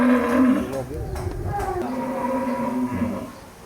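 Cattle lowing at a Bogor market selling sacrificial Qurban cows, including giant one-ton bulls: a few drawn-out, fairly close moos, one after another, with a faint murmur of voices and crowd noise behind.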